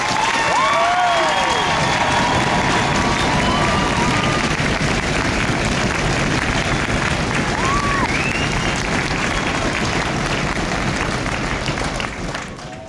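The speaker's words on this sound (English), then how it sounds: "Please join me in a round of applause." A large crowd applauds steadily and loudly for over ten seconds at an Army basic training graduation ceremony at Fort Jackson, with scattered cheers and whoops rising above the clapping before it begins to fade.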